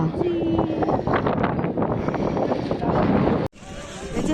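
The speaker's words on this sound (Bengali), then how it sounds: "এত ঠান্ডা এত হাওয়া চালাচ্ছে" Strong, cold wind gusting across the snowy slopes of Gulmarg, Kashmir, a steady close roar of wind buffeting the microphone that drops off abruptly near the end.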